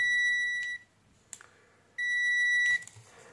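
A multimeter gives a continuity beep as a button on a 24-key keypad switch matrix is pressed: two steady, clear tones of nearly a second each, separated and followed by soft clicks.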